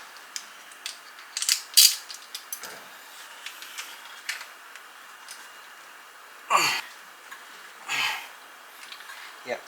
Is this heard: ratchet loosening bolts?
yes